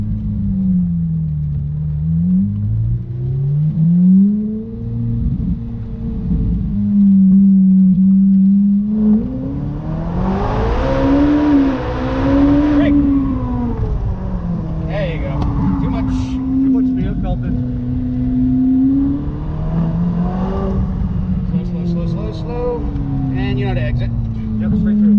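A short-stroke car engine revs while driving at a driving experience in Bridgewater, New Jersey, its pitch rising and falling repeatedly with a sharper, louder surge midway, heard close up under ongoing talk.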